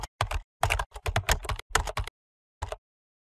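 Computer keyboard typing out a Gmail address: quick bursts of close key clicks in an irregular rhythm with short pauses, ending with one last brief tap after a gap.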